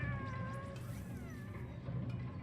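Cats in the video game Animal Well let out long, wavering, mournful meows that overlap in a continuous plaintive chorus over a low ambient drone, moderately quiet and steady throughout.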